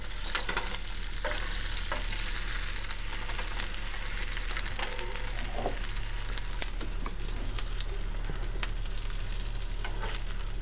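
Turkey bacon sizzles steadily in a pan, a constant close frying hiss with occasional faint scrapes and clicks of turning.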